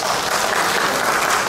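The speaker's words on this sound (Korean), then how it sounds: "다시 한번 뜨거운 박수 부탁드리겠습니다" Applause from an award ceremony audience at a literary society's graduation and new-writer prize event, a dense continuous patter of clapping filling the room, steady and fairly loud throughout.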